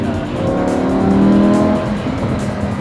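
A Lamborghini Huracán's engine revs up under throttle, a loud, close, steady mechanical roar that swells over about a second before easing off slightly, with no talk.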